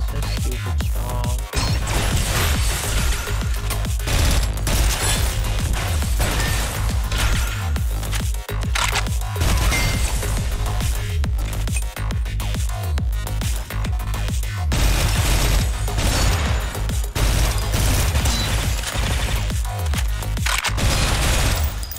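A laser cannon firing in a video game: rapid, heavy bursts of blasts and booms with sharp crashes layered over a deep rumbling bed, loud and nearly nonstop, with brief pauses between volleys.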